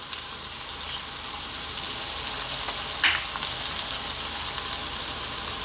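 Garlic and salt frying with potatoes in a pan give a steady, close hiss of frying, with one brief clatter partway through.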